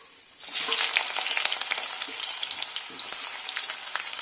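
Chopped onions dropped into hot mustard oil in an iron wok for an Assamese pork dish, starting with a quiet moment before a sudden loud sizzle that crackles on steadily with occasional stirring scrapes.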